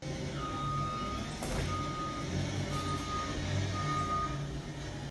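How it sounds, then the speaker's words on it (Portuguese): Steady, repeating reversing beeps from trucks at a neighbouring trucking company, heard at a distance over a constant engine rumble and background noise. "eu moro do lado de uma firma de caminhão, então tem bastante barulho. E esse é o barulho que Eduardo enfrenta na sua rotina."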